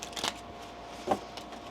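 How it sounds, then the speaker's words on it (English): A tarot deck is shuffled in two quick, soft riffling bursts of cards, quiet and close, with no talk. "I want to get another shuffle there for you"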